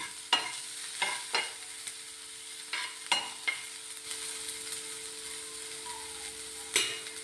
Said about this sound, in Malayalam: സവാള കുറച്ച് വഴന്ന് വരുന്ന വരെ കാത്തിരിക്കാം.